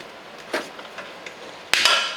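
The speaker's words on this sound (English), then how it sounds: "We're going to go ahead, stick our ratchet on the socket." A ratchet on a socket clicks against the differential drain plug of a Lexus GS-F, giving a few sharp metallic taps followed by a louder, brief burst of ratcheting, close and without talking.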